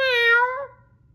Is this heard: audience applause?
no